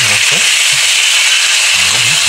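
Ingredients being stirred in a pan while cooking a Filipino ulam dish: soft intermittent scraping and stirring strokes over a steady, loud sizzling hiss.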